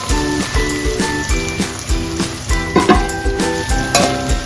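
Potato pieces fry in hot oil with a steady sizzle, set against rhythmic background music that runs through the whole stretch.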